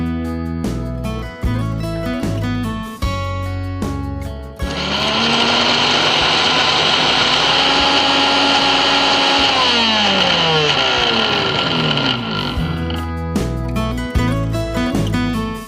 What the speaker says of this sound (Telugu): ఇప్పుడు మిక్సీ పట్టుకుందాం.